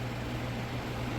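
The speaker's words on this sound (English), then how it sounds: "Sorry about the fan." An electric fan runs steadily indoors, giving a constant close airy whoosh with a low hum underneath and no voices.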